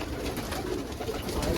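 Pigeons of fancy coloured breeds coo in a continuous low murmur throughout, a steady near chorus with no talk.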